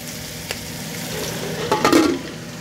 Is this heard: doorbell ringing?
no